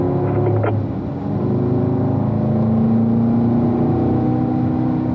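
A car engine pulls steadily on a race track as the driver works up through the gears toward fourth, a close, continuous drone with rising harmonics that stays loud and unbroken throughout.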